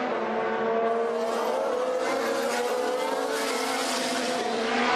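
Formula 1 cars in the 2018 season braking into turn one, a dense continuous roar of high-pitched engines blending together with faint tyre scrub, loud and sustained throughout.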